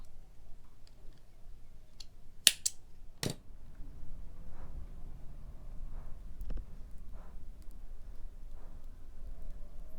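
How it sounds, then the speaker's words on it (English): Scissors snipping crochet yarn close by, a couple of sharp clicks in quick succession amid quiet handling noises. "I'm going to cut my yarn,"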